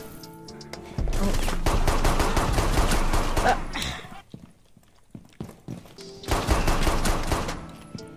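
Gunfire bursts from the Rainbow Six Siege video game, loud rapid crackling volleys in two clusters separated by a quieter gap, with pistol shots heard near and no talk over them.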